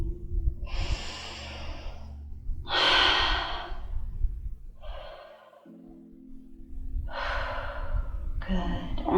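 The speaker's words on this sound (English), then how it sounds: "And we'll take 3 deep breaths here." Three deep breaths taken during a stretch for singers, each a long audible inhale or exhale with pauses between, close and clear with no talk.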